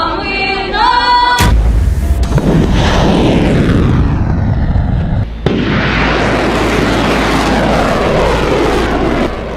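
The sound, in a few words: missile attack with aircraft over Ukraine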